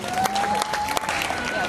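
An audience cheering and applauding for a pastor at a North Miami poetry tribute event, a dense rush of clapping and crowd noise with voices mixed in throughout.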